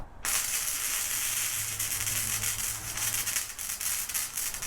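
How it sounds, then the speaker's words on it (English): Battery-powered welder running a bead on quarter-inch metal, a steady, loud crackling hiss that holds continuously for several seconds with only slight flutter. "let's lay down a bead on some 1/4" material."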